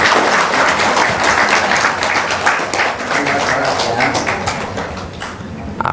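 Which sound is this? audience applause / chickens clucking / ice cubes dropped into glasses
audience applause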